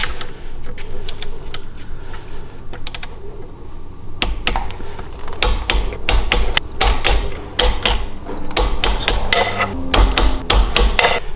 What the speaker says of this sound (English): alternate from bolt to bolt until we get to 150 inch-pounds total